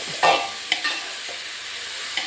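Chopped onions with ginger, garlic, chilli and curry leaves fry in a pan for a pepper chicken curry, a soft steady sizzle broken by a few sharp stirring scrapes of a spoon, close and brief.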